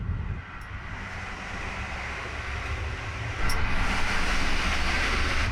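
Steady low rumble and rattling of a moving train, with continuous broadband noise that grows a bit louder midway; no talking.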